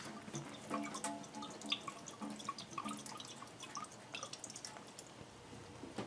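Water drips from the hose of a Danby DDW1801MWP portable dishwasher onto the floor, producing many irregular small splashes and patters, quiet and close, with no talking.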